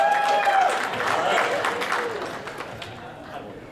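A comedy club audience applauds in response to a comedian's question, a burst of clapping that fades over a few seconds as a voice briefly speaks.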